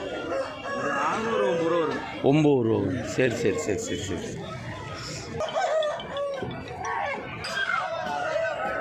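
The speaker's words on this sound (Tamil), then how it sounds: "இங்கே பாருங்கள், ஒரே வண்டியில் எத்தனை சேவல் கொண்டு வந்துருக்குறாங்க" Roosters crow and cluck among other poultry at a goat and rooster livestock market in Kunnathur near Gobichettipalayam, the calls rising over constant nearby chatter and bargaining voices.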